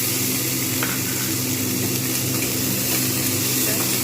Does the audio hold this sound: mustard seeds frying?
yes